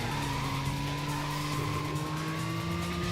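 Tires squealing and skidding under hard braking in the PS1 racing game Racing Lagoon, a sustained high-pitched screech over a steady engine drone, held continuously at moderate loudness with no talking.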